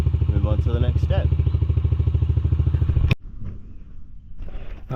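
A 2014 Yamaha TTR110 dirt bike idles close by with a steady, rapid putter for about three seconds, then cuts off abruptly, leaving quieter scattered handling noises.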